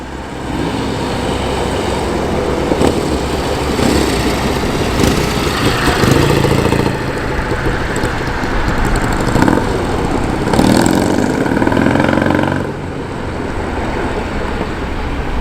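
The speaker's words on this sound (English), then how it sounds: "Even a little motorcycle action." Loud, steady engine roar of a passing motorcycle, close by, rising and falling slightly with a few surges of revving.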